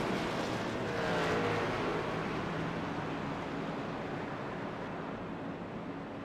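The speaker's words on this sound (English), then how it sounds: "So we're getting the notification to let the lead lap cars go by." Race cars in a sim racing game stream past as the lead lap cars go by, a steady broadband engine roar that swells near the start and then holds on as a dense, continuous wash.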